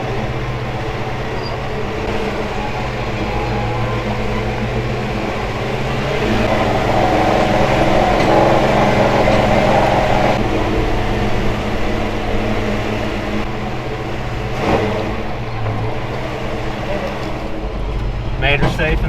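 A 1973 Chevy truck loaded with hauled wood creeps down a steep hill in four-low first gear, its engine a low steady drone with drivetrain whine and a few rattles and bumps.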